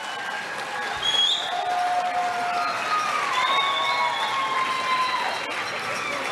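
High school graduates at a 2021 early college graduation cheer, whoop and shout toward the crowd, a loud sustained roar with whistles and yells throughout.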